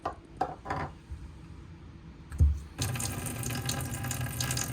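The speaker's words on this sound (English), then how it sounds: "That's how you draw water from the unit." Water runs from the faucet of a 2025 Forest River Salem FSX 164BHLE travel trailer. A few knocks and a thump come first, then a steady, close hiss of flowing water fills the rest.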